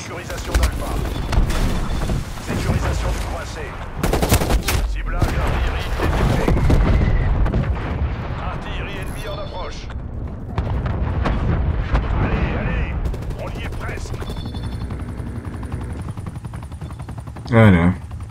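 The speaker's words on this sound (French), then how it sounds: "Je suis en train de me faire tirer dessus." Gunfire and explosions in a Call of Duty: Cold War multiplayer match, with repeated booms, distant shots and a rumbling battlefield din under steady French-speaking talk.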